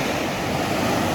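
The fast-flowing Sooke River tumbles down a steep gradient, giving a loud, dense, continuous rush of water with no pauses or voices.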